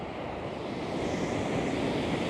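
A swollen river overflowing its banks rushes in a steady, loud, broadband roar, heard close by along a roadside during a motorbike trip, with no talk over it.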